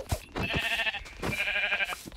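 Sheep bleating in the Minecraft video game, two drawn-out nasal bleats close up and fairly quiet, with no talking.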